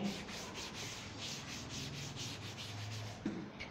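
A duster rubs writing off a board in steady, close back-and-forth swipes that make a continuous scratchy whoosh with a regular rhythm and no talk.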